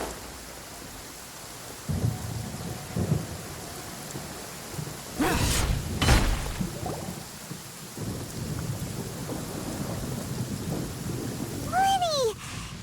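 Thunder and steady rain from a storm scene in the game Genshin Impact, with a continuous wash of rainfall broken by two loud, sharp thunder cracks midway and a brief rising chirp near the end.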